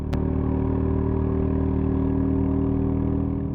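A Royal Enfield Meteor 350 motorcycle engine hums steadily at a constant pitch around 60 mph in fourth gear, close and continuous, after a brief click at the very start.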